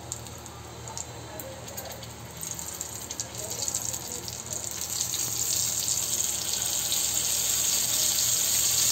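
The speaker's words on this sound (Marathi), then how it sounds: "हे तेल ठेवलेलं आहे, आता असे फ्राय करून घ्यायचे आहे" Bombay duck (bombil) fish coated in spiced flour fries in hot oil, a continuous crackling sizzle that grows louder and denser as more pieces go in, with a voice talking over it.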